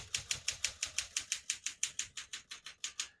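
A 1964 Smith-Corona Galaxie portable typewriter types steadily on single spacing, about a dozen crisp, evenly spaced key strikes clattering close up with no voices.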